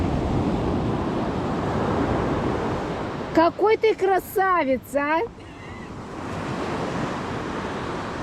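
Sea waves wash onto a beach in South Goa with a steady roar and wind rush, broken midway by a brief spoken phrase, then the surf continues alone.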